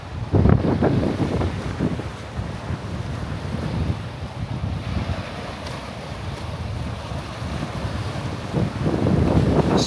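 Ocean waves roll in beside a pier on a day with two-to-four-foot surf, their low surges rising and falling under heavy wind gusts buffeting the microphone.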